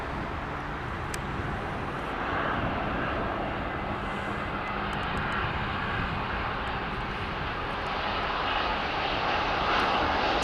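Airliner engines roaring at takeoff thrust, a broad steady jet rumble and hiss that swells slightly and holds loud and continuous, heard from an airport during arrivals toward sunset.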